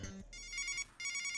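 A phone rings in two electronic bursts of chiming tones, with a brief gap between them and a low hum underneath.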